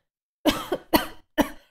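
Three sharp, close coughs in quick succession, each a short harsh burst separated by brief silence.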